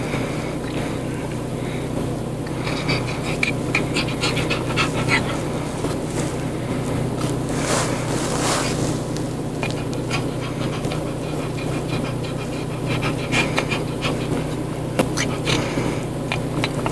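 A dog breathing heavily in the sun, panting in a fast, continuous, raspy rhythm close by, with steady background noise throughout and no talking.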